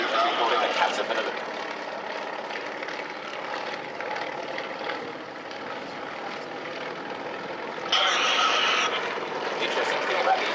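Yak 50 aerobatic aircraft flying a caterpillar loop in formation at an air display, a continuous propeller-engine drone heard from a distance that rises and falls, with a commentator talking over it.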